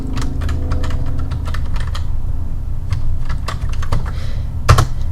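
Fast, close typing on a computer keyboard, a dense run of crisp key clicks with brief pauses and a heavier keystroke near the end, with no voices.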